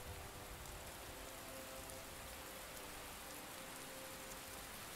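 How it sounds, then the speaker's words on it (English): Soft, even rainfall pattering continuously in the video game Skyrim, quiet and steady with no voices. "Oh, it's raining."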